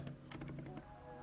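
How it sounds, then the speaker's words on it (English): Quick run of keystrokes on a computer keyboard while text is entered in a design program, a short burst of crisp clicks that stops partway through, close and fairly quiet. "I'm going to type in"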